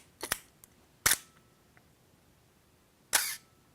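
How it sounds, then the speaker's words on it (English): Mechanical clicks of a slow focal plane fabric curtain shutter in a 35mm film camera, with a sharp click at the start, another about a second later and a third after a pause of roughly two seconds, close and fairly quiet. "So this is a focal plane curtain shutter, which is a older style shutter."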